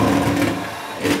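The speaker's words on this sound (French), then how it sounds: "Là, on va arrêter le batteur." An electric hand mixer whisks a batter in a home kitchen, giving a steady buzzing whir close by that dips briefly and then picks up again.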